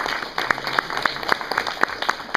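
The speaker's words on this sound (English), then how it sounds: "let's give a big round of applause to Kristellys." Audience applause at a featured program event, a moderate crowd clapping with a clear handclap rhythm standing out in front, fairly close and steady.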